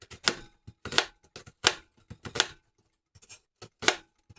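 A knife chops onion on a cutting board for homemade garden salsa, a handful of crisp separate cuts in an uneven rhythm with short pauses between strokes.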